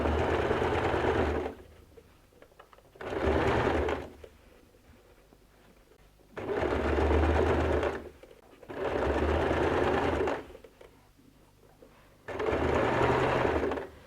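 A sewing machine stitches bias binding around the U-shaped bend of a pocket. It runs in four or five bursts of steady, close mechanical whirring, with quiet pauses between them.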